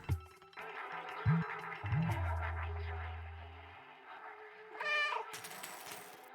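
A cat meows in the video game Stray, a few drawn-out, close cries with a rising squeaky call near the end, over quiet game ambience.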